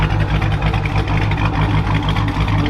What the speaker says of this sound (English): I got the 2016 Challenger with the 426 with the Whipple. I got a base calibration in it, and I got it up and running.